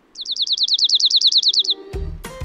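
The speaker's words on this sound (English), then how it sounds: "Dark-eyed Junco." A dark-eyed junco, a sparrow-family songbird, delivers a rapid even trill of about fifteen identical bright chirps, loud and close, followed by brief low rustling and clicks.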